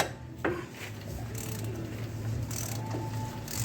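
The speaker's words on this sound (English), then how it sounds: "we got our beautiful new 60-tooth Ultra Pro ratchet here." A 60-tooth Ultra Pro ratchet working on a bolt during brake and hub disassembly on a 2003 Dodge Ram 3500 dually, giving fine rapid clicking and metallic knocks close up, with a low hum underneath.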